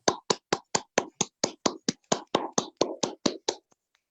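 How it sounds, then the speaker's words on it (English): A single person claps fast and eagerly at a poetry night, about sixteen sharp, evenly spaced claps in a close, dry burst that stops abruptly, with no other applause around. "I can hear someone clapping really enthusiastically."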